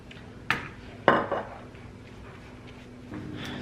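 Pans handled in a home kitchen, giving two or three sharp nearby metallic clanks and a softer knock against a steady low background hum, with no talking.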